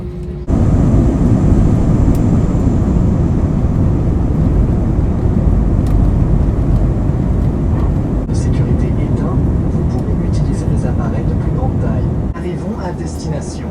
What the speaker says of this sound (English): Getting ready for takeoff now.